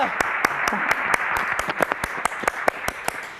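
Steady, fairly quick clapping during a video call on a Thai music show: about fifteen crisp claps at an even pace over a constant background hiss, with no talking.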